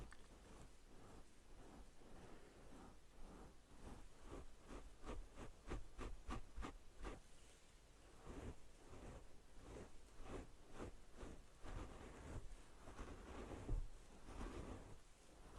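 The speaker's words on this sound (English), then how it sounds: "it's raining outside" Steady rain patters outside, a continuous soft hiss with faint scattered tapping, heard alone at a moderate, even level.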